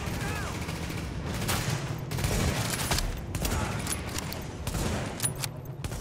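Gunfire in The Division, a hard-mode mission: rapid bursts and volleys of shots, loud and dense, with brief lulls between clusters of rounds.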